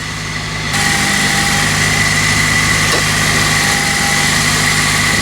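A car engine idles steadily after a transmission replacement, close and fairly loud, with a constant hum and whine suggesting a worn pulley bearing, heard alone without talk.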